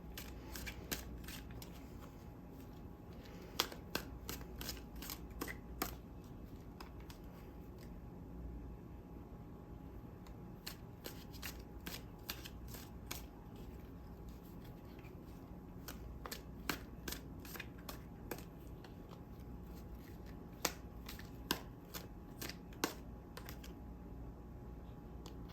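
Tarot cards are shuffled in quick papery riffles and taps, scattered in bursts over a soft steady background hiss. The sound is close but faint and goes on for a long stretch with no one talking.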